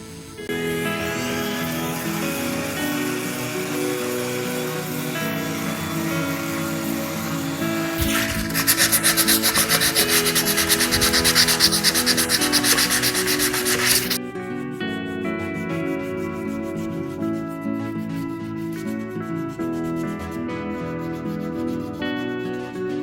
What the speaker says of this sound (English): there's going to be a little hand sanding up in here